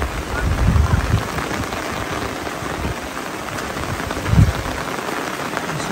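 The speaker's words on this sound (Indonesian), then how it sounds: "Nah, hujan deras." Heavy rain pours onto a campsite tent at the foot of Mount Salak, a dense, loud, continuous patter close by, with a few heavier thumps and a voice faintly under it.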